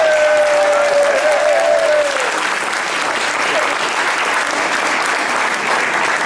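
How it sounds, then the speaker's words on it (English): A large audience at a newspaper's 50th anniversary celebration gives a steady, full round of applause that holds at the same loudness for the whole stretch, with a brief voice over the first couple of seconds. "Give her a round of applause."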